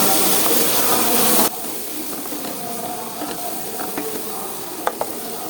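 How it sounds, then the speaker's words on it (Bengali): Spices for a spicy mutton curry sizzle and hiss in a hot pan as they are stirred and fried, loud and steady, easing slightly partway through, with a few clinks of the spoon near the end. "এবার আমি মশলাটাকে সুন্দর করে কষিয়ে নিব।"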